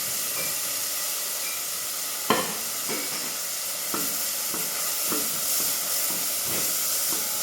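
Onions and garlic frying in a pan, a steady close sizzle and hiss with a sharp utensil knock and several lighter scraping stirs through it.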